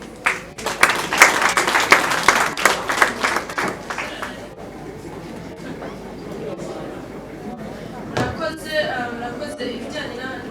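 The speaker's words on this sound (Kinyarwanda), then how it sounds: "ahubwo mwabaha amashyi" A seated ceremony audience breaks into dense applause for about four seconds, with one loud burst of clapping that fades away. A man then carries on speaking alone into a microphone.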